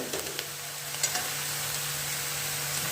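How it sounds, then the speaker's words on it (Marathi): Onion or vegetables sautéing and stirring in a hot pan on a home stove, a steady close sizzle with a few soft scraping clicks near the start. "सोनेरी रंगाचा झाली होईपर्यंत आपल्याला परतायचं आहे"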